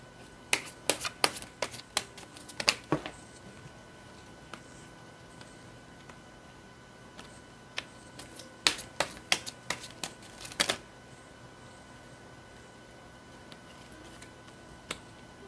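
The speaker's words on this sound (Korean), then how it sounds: "먼저 여러분을 향한 상대방분의 오늘의 생각은 어떤 생각을 했을지 카드 살펴보도록 하겠습니다." Tarot cards handled and laid out during a reading, heard as scattered crisp snaps and flicks in two clusters with a quiet pause between, close and fairly soft, with no voices.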